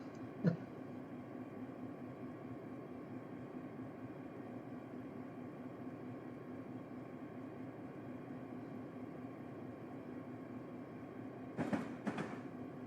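A locomotive in Train Simulator 2021, a Hollister local running between Gilroy and Newhall Yard, makes a faint, steady cab rumble and hum. There is a single click near the start and a short noisy burst near the end.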